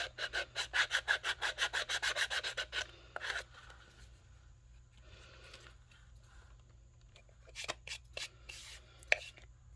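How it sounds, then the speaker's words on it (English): Sandpaper rubs back and forth across the base of a Dollar Tree snow globe, a quick run of rhythmic rasping strokes up close, then quieter scattered scrapes and handling noises after a pause. "The instructions on the snow globe say to sand the base a little bit to help your figurines adhere to it better."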